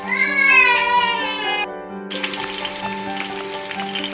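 Onions and carrot frying in a pan, a steady close sizzle with tonal music-like harmonics on top and a brief dropout partway through, no talking.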